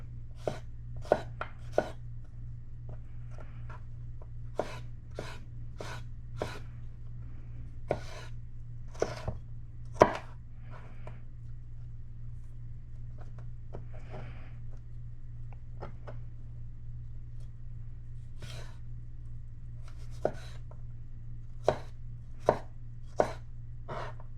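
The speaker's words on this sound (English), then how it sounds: "I'm chopping these up for a salad." A knife chops a bell pepper on a cutting board, quick irregular clusters of crisp taps with short pauses, close and fairly quiet over a low hum.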